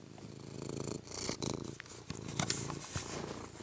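A contented house cat purrs up close, a continuous low rumbling flutter that pulses steadily through the short stretch with no voices.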